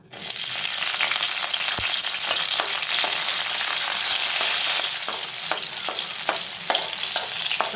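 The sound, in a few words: green chillies frying in oil in a kadai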